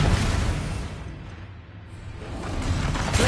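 A Confringo explosive spell cast in Hogwarts Legacy releases a broad whooshing burst that fades into a hollow lull, then swells again with rumbling noise.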